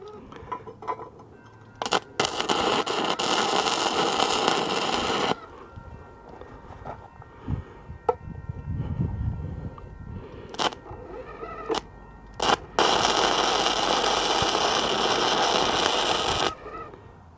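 A Troozy Rilon 135E MIG welder welding at over 100 amps, two long bursts of harsh crackling buzz separated by quieter pauses with short clicks and muffled low noise.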